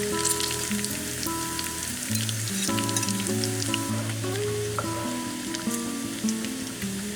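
Eggs frying slowly in bacon grease in a pan over medium heat, a steady soft sizzle with faint crackles running throughout, while music plays in the background.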